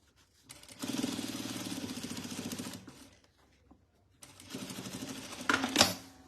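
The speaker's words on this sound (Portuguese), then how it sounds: "É tão gostoso costurar, é tão rápido costurar." A sewing machine stitches fabric for a cloth wallet in two distinct bursts of rapid, close mechanical chatter separated by a short quiet pause. The second run ends with a sharper clunk.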